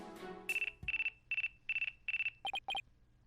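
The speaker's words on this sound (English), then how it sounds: "Looks like I have a phone call." Phone ringtone from the Apollo Justice Ace Attorney video game: a short musical lead-in gives way to a steady series of loud electronic ringing bursts, ending in a couple of quicker warbling chirps, with no voices.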